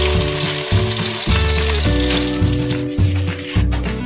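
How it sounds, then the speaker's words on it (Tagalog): Pork for pork steak with eggplant fries in a pan, a loud, dense, continuous sizzle with rhythmic thumping stir strokes every half second or so, close-up and with no one talking. "Susunod na natin prituhin yung karne."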